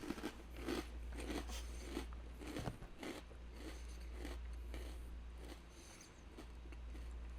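Dry cinnamon cereal being crunched and chewed close to the microphone, a run of crisp irregular bites and crackles over a low background hum, with no talking.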